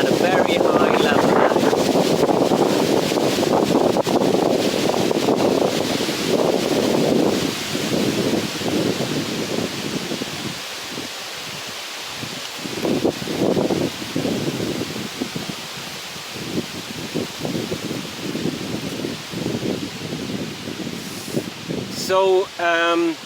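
Strong wind gusting outdoors by a tree in Bonn, Germany, loud buffeting rushes that rise and fall across the microphone, with a voice talking through much of it.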